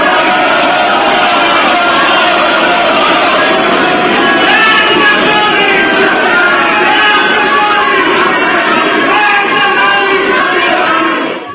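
Inside the National Assembly, opposition members chant slogans loudly while government members thump their desks, a dense, sustained roar of many voices that carries on without pause for most of the stretch.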